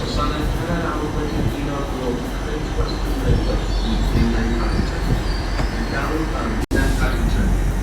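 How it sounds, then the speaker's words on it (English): A Transport for Wales train pulls into Newport station, a steady rumble of wheels and rail noise with faint squeals, carrying on loud and close throughout with a brief dropout near the end. "Another Transport for Wales train turned up, 175005 on that one"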